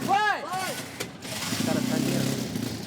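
A race car's engine with a recurring fault cuts out, giving two quick rising-and-falling revving bursts that stutter and fade, followed by a voice talking over a low rumble.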